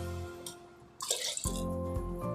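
Water pours steadily into a cooking pot for about half a second, its pitch shifting as it fills, with faint kitchen hum and clinks before and after.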